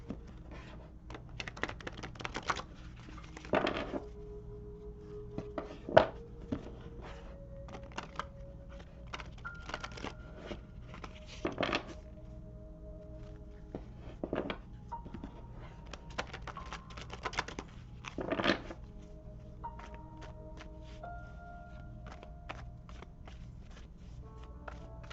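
Tarot cards are shuffled by hand in soft, irregular riffles and taps, quiet and close, with small clicks scattered through a long stretch and no talking.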